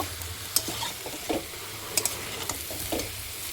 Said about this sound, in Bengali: লাউ দেওয়া দেওয়ার পর এটাকে ভালো করে কিন্তু কষিয়ে নেব